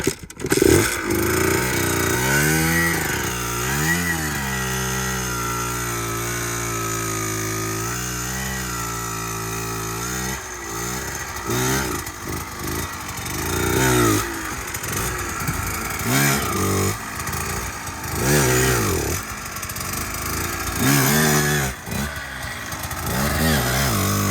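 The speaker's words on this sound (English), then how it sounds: "we'll just work it on the clutch, and then we'll go ahead and start popping the front wheel around" Motorcycle engine revving repeatedly as the rider works the clutch to pop the front wheel up for 180 wheelies, loud and close, with rising and falling pitch sweeps and choppy throttle blips throughout.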